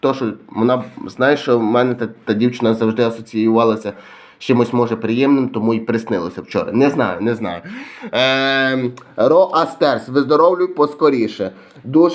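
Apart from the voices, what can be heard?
No everyday noises stand out.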